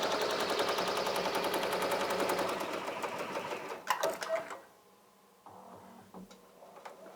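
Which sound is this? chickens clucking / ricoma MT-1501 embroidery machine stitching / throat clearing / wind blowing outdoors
ricoma MT-1501 embroidery machine stitching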